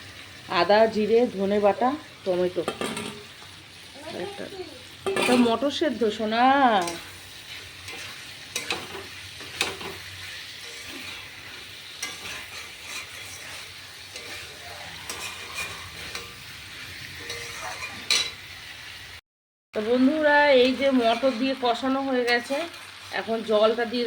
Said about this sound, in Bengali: এখানে এই যে মশলা কষানো চলছে এবার আলুটা দিয়ে দেবো নিরামিষ ঘুগনি